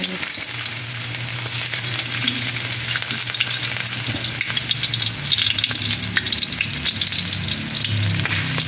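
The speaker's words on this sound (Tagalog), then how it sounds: "Gigisahin na natin ang bawang sibuyas, luya." Ginger sautéing in hot cooking oil in a pan, a loud, dense continuous sizzle with some stirring scrapes and crackles, close up and with no talking.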